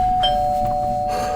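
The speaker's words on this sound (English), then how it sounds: "The doorbell rang again." A single electronic doorbell chime rings out clearly, a bright sustained tone that lingers and fades over about a second, heard alone in a quiet room.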